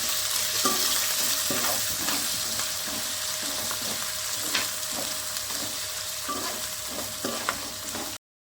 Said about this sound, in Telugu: ఒక కప్పు మునగాకు రెండు బాగా వేయించుకోవాలి